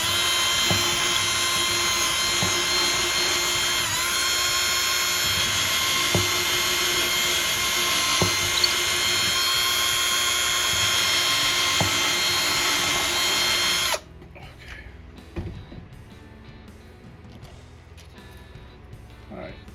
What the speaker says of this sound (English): I'm just going to avoid the waste of time and re-drill these.